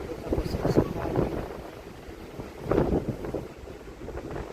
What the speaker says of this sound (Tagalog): Grabe ka kusog sa hangin.